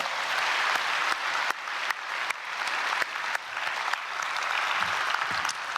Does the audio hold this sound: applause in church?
yes